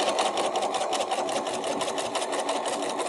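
A sewing machine stitches down the hem of a reusable tote bag, a steady rapid mechanical whir with fine regular ticking, close up and continuous with no pauses.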